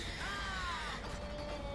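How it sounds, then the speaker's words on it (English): A crow-like bird caws in the video game Bioshock Infinite, a drawn-out falling call over a constant bed of game ambience and effects. "That's birds."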